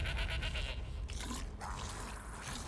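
A goat bleats in Elder Scrolls Online, set in the Alik'r Desert. The sound runs close and fairly steady for a couple of seconds over busy game ambience, and no one talks.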